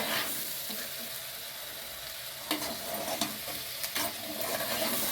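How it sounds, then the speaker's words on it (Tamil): Soaked rice for chicken biryani sautés in a hot pan, a steady sizzle broken by several distinct scraping stir strokes, close and fairly loud, with no voices. "ஒரு 2 to 3 மினிட்ஸ் வந்து நம்ம வதக்கினா போதும்."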